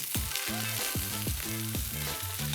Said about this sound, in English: And now I'm gonna flip my steak.